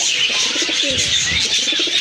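Pigeons coo nearby, with a low rolling call rising under a bright, hissy background of other birds chirping.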